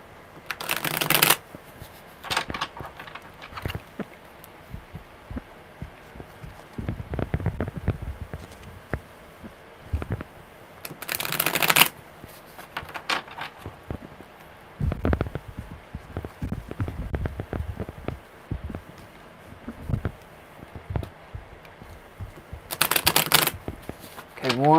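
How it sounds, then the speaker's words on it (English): A deck of tarot cards is shuffled close by in repeated crisp riffling bursts, some long and some short, with a person speaking quietly between the shuffles. "Okay, one more good shuffle."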